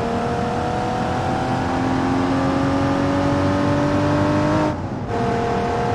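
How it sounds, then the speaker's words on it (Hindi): A sports car engine in a driving video game holds a high, steady rev at high RPM, its loud whining tone climbing gradually before a brief drop near the end, then resuming. "हाई आर आरपीएम पर 200 गाड़ी जो चल रही है।"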